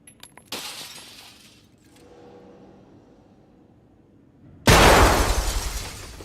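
Grenade explosions in the game Escape From Tarkov: a sharp blast at the start, a quiet rumbling stretch, then a second loud shattering burst that rings out and slowly decays with rattling debris.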